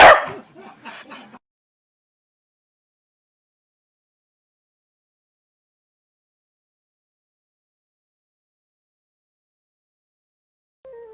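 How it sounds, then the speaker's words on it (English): A corgi gives a short burst of quick, close barks and yips at the very start, then silence follows for most of the stretch, with a faint brief sound near the end. "Nothing left to do but cue the corgi."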